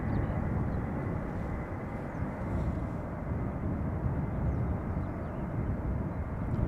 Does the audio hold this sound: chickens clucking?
no